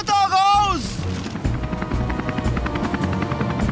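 Cartoon helicopter from Fireman Sam flying, a steady rotor drone with rhythmic chopping pulses running throughout, briefly overlapped by a voice at the start.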